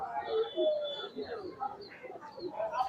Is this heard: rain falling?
no